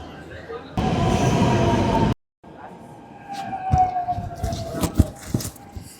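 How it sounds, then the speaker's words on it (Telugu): A metro train rumbles and whooshes into an underground station in Hyderabad, with a brief loud roar, a gap, then rising screeching and clatter as it arrives. "ఒక మెట్రో వచ్చింది."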